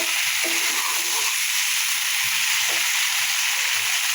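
Cauliflower curry masala fries in oil, a steady, close sizzling hiss throughout with soft, low stirring thumps underneath.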